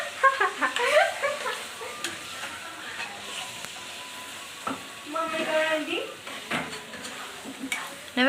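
Chicken curry stirred and frying in a pan at home, with a steady sizzle and scraping spoon strokes against the metal, close by, broken up by bursts of conversation over the cooking.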